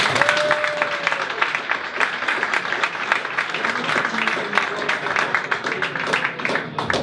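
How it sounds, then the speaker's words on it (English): An audience at a tech talk applauds the speaker, dense steady clapping filling the room for the full seven seconds, with some voices mixed in underneath. "Okay, big round of applause to Evgeny."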